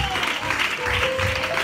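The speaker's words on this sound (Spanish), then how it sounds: "aplauso para el Señor de la alegría" A church congregation at a Sunday service applauding, with steady dense clapping from a crowd filling the room and a voice faintly underneath.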